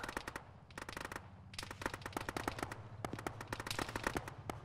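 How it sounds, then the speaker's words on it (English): Automatic gunfire in a military video game crackles in rapid bursts, clearly separated rounds rattling off in several volleys with short gaps, fairly faint and distant-sounding, with no talking over it. "I hope none of those rounds hit Charlie."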